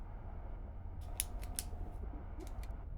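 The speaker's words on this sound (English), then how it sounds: "Hear me clicking it, the pen is out of ink." A ballpoint pen with no ink is clicked repeatedly, a handful of small sharp clicks in two short clusters, quiet and close over a low background hum.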